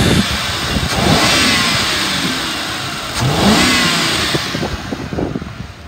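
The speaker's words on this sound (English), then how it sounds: "I'm gonna rev it up so you can hear it." A 2011 Ford Crown Victoria Police Interceptor engine revs up twice, rising and falling loudly, with an uneven, stumbling note from an idle misfire between the revs as it settles toward idle.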